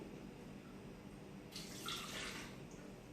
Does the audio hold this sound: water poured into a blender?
yes